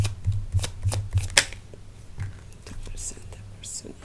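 Tarot cards are shuffled and drawn from a deck at close range in a series of quick riffling bursts and soft slaps, with a whispering voice talking over them throughout.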